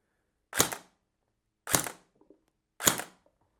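A KWA KR-12 airsoft rifle, battery-powered with an 11.1 V LiPo, fires three single semi-automatic shots about a second apart as short sharp cracks, close and fairly quiet, with no talk.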